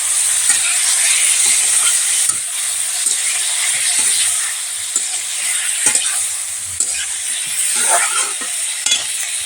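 Masala with chopped tomatoes frying in a pan for a cauliflower curry, a continuous loud sizzle with scattered spoon scrapes and stirring knocks throughout, no voices.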